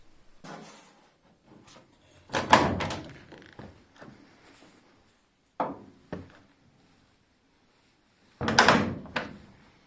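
Several wooden-sounding thumps and knocks from a Triumph TR7 car door being adjusted, a couple of loud bangs separated by quieter handling noises, close by with no talking.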